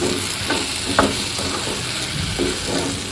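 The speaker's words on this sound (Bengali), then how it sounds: "দেখো কেমন মাংসর মশলা দিয়ে আলুটাকে কষাচ্ছি" Potatoes stir-fried with meat spices for a chicken and potato curry, a continuous close sizzle with a few spatula scrapes and stirs at irregular intervals.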